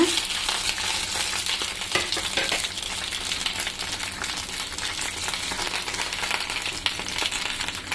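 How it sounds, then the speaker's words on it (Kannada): Sambar leaves and dried red chillies fry in hot oil in a pan, giving a steady, close sizzle with occasional stirring scrapes and no talking. "ಇವಾಗ ಇದಕ್ಕೆ ಸಾಂಬಾರ್ ಸೊಪ್ಪು ಮತ್ತು ಒಣಮೆಣಸನ್ನ ಹಾಕಿ ಫ್ರೈ ಮಾಡಬೇಕೀಗ"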